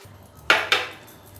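Cashew nuts drop into a metal pan of hot jaggery syrup for sesame ladoo, making two quick close clinks a moment apart that ring out briefly.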